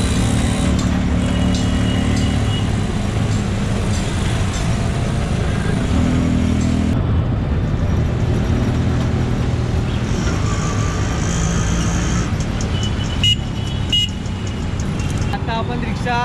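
Riding in an auto rickshaw through city traffic in Surat, a loud, constant engine drone with road rumble fills the scene, with scattered horn toots from nearby vehicles.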